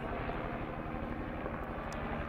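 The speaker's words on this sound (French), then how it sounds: "Ah non, c'est un hélicoptère qui me surveille." Overhead helicopter above an outdoor clay site, heard as a constant, dense rushing roar of engine and rotor noise that stays even throughout.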